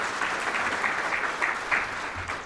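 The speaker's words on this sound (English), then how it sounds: "Give Tyler a round of applause here." An audience at the 2023 Orrville State of the Chamber event applauds steadily for a couple of seconds, a dense, even patter of many hands clapping at moderate distance with no talking.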